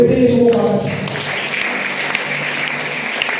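A church congregation applauding during a service: steady, dense clapping from many hands fills the space, fairly loud and close, with cheering voices and music tones over the start.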